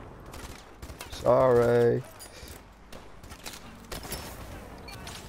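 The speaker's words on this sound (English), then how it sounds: "Yeah, I'm getting shot at." Gunfire in the video game Call of Duty: Advanced Warfare, a rapid burst of shots rattling for under a second, moderately loud, with a player talking over the game audio.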